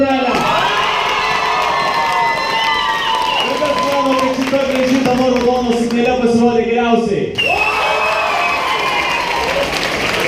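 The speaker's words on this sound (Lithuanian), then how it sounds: "Kiek daug plojimų." An audience at a stage contest cheers, claps and shouts, with children's voices high in the mix, a loud, continuous crowd roar that surges and then briefly dips while a presenter speaks over it.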